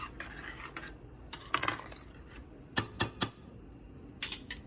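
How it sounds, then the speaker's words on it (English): A utensil clinks and scrapes against a bowl as seasoning is stirred into a lasagna mixture, producing sparse, fairly close taps and a few sharper knocks in a quiet kitchen. "All right, so I'm gonna mix that in."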